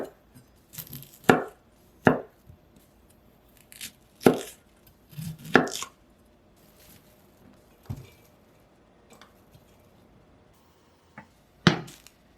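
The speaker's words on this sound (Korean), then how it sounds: "브로콜리는 먹기 좋은 크기로 썰어 주시고요." A knife chops onion and broccoli on a board in sharp, separate thuds, scattered irregularly with pauses between strikes, close and clear with no talk.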